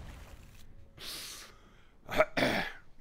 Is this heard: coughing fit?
yes